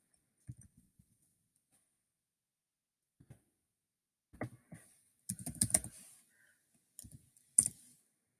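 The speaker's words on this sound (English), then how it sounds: "I can start typing here" Short bursts of keyboard typing with pauses between them, clicky keystrokes close up, no voices.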